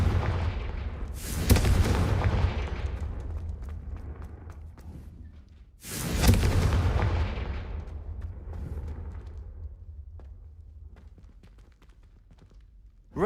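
Two booming fire-spell explosions from Hogwarts Legacy burst about four seconds apart, each a sharp, loud blast that rumbles and fades slowly.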